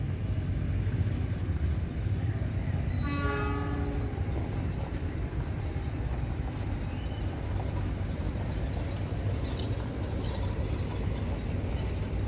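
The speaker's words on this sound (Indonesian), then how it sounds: "Kereta api King Willis masuk jalur 2 stasiun Cicalengka, berhenti sebentar di sini ya." A King Willis train rumbles steadily close by as it enters Cicalengka station, sounding one long horn blast partway through, with a low continuous roar of wheels and engine.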